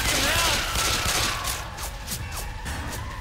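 Rapid bursts of gunfire in Left 4 Dead 2, with repeated shots and a fusillade of weapon fire running throughout, mixed with game effects and partly under players talking.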